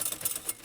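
A typewriter clatters in quick, close keystrokes in a lecture hall, producing a short run of sharp mechanical clicks.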